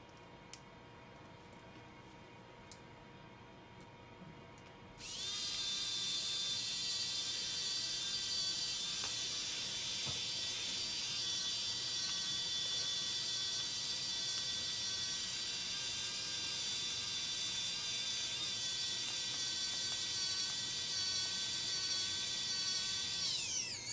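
A power drill or screwdriver drives a screw back into a part while assembling the gripper of a robot arm, starting after a few quiet seconds with a steady, loud whine that holds for nearly twenty seconds, no voices.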